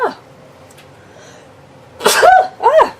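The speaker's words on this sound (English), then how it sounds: "Oh, I'm going to sneeze." A sneeze bursts out sharply, followed moments later by a second shorter sneeze or sniff, close and loud, after a quiet stretch indoors during a watercolour paint demonstration.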